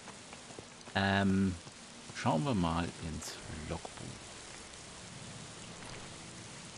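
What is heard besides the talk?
rain in the video game Gothic I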